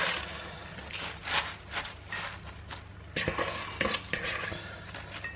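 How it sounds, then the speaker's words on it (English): Baby spinach stirred in a pan alongside lemon while cooking cod with Mediterranean flavours: a utensil scrapes and clatters against the pan with soft rustling, close and fairly quiet, no talk. "Adding the spinach. This nice baby spinach."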